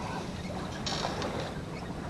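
A sailboat out on an evening pleasure cruise, with steady wind and water noise rushing around the hull and a brief brighter hiss partway through, continuous and fairly even with no talk.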